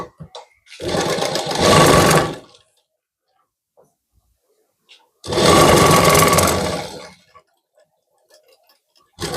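A sewing machine stitches around the curve of a blouse sleeve in two loud, steady runs of about a second and a half each. A quiet pause separates the runs, and faint handling clicks fall between them.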